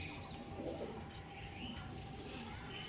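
Pigeons from a breeder's loft coo softly and steadily, a low murmuring call repeating through the clip beneath faint chirps and background noise, with no one speaking.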